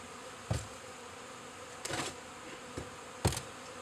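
Faint steady hum of honeybees at a 1.5-inch round hive entrance, with a few brief louder buzzes as bees pass close, spaced irregularly over a quiet background.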